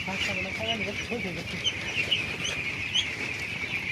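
Ducks on a farm feeding on a mix of paddy grain and maize, with overlapping chattering calls and quacks close by over steady background noise; a person talks at times.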